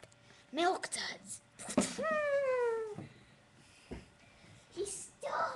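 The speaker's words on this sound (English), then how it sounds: "Stupid cat. He went meow, meow." A cartoon cat meows in a few short, rising and falling cries, loud and close, mixed with bursts of character talk and clattering effects.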